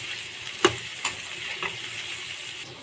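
Drumsticks and mushrooms seasoned with salt fry in a pan under a continuous sizzle. Three sharp scraping knocks from stirring come near the start, then the frying settles into an even hiss.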